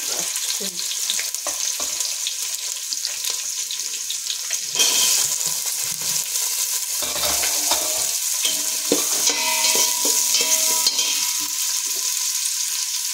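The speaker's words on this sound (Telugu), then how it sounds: "జీలకర్ర వేగుతుందండి. ఇప్పుడు ఉల్లిపాయలు వేసుకుందాము." Cumin seeds and chopped onions fry in a pan for Karnataka girmit, a steady bright sizzle with occasional stirring scrapes, louder after onions hit the oil, with a faint tap-like hiss in the background.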